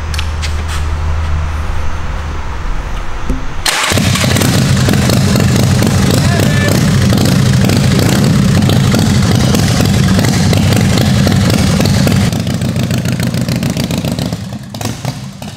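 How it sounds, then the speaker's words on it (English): A rigid-frame motorcycle with a springer front end idles, then fires up into a loud, close, clattering roar that revs and holds before easing off, with brief talk. "Let's fire this thing up and let's take it for a spin."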